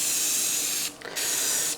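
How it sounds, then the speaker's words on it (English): A spray can lays a light mist coat of paint on a heavily rusted rototiller, hissing steadily and close, broken by one brief pause before the spray resumes. "you have to be a little bit more careful with the spray"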